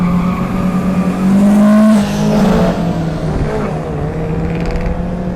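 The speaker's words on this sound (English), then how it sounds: "the highlight today is Mercedes 190e single make drag racing" Mercedes 190E cars at a single-make drag racing meet in Thailand, a loud engine roaring and revving continuously up close, with a sustained drone swelling midway, set against a busy outdoor crowd background.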